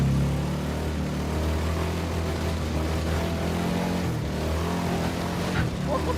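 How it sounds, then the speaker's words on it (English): The engine of a 1965 Ford Econoline Wheelie Wagon motorhome runs and revs with a steady, rough low drone throughout, close and fairly loud. "This thing revs pretty good for a motorhome motor."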